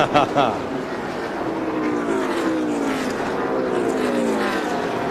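NASCAR race cars at the 2002 Subway 400 running close to the wall, a loud continuous engine roar with rising and falling pitch as cars pass near, steady throughout.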